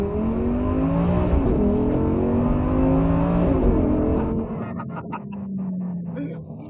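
An older Audi R8 drives along, its engine droning steadily with rising and falling revs as it accelerates and shifts, loud inside the cabin, then easing off toward the end.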